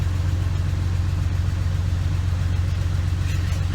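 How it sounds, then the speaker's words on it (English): A 2001 Jeep Cherokee runs on a test drive after an evap system leak repair, its engine a steady low droning hum from inside, with no talking. "So we're gonna test drive it."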